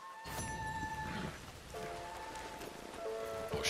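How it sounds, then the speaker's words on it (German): Rain falling in the Red Dead Redemption 2 Online video game, a steady broadband patter that holds throughout, with faint tonal game music or ambience lines running underneath. "Oh, schön. Regen."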